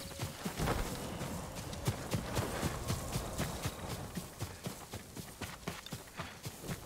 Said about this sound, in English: Here she is. Yuriko's horse.